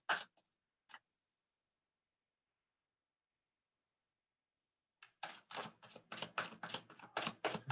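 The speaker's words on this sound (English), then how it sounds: "let me shuffle a little bit more, Ashley." A tarot deck is shuffled in quick crisp riffles, a couple of brief flicks followed by silence and then a rapid run of sharp card snaps, close and fairly quiet.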